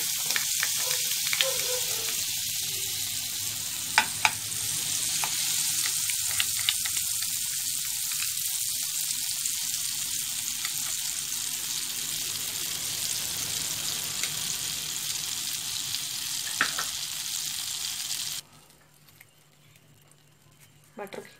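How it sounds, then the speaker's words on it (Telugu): Four tablespoons of butter melting in a heated pan for paneer butter masala, a continuous soft sizzle with scattered pops, cutting off near the end; someone talks over parts of it. "ప్యాన్ హీట్ అయిన తర్వాత మనం తీసుకున్న 4 టేబుల్ స్పూన్స్ బటర్ ను"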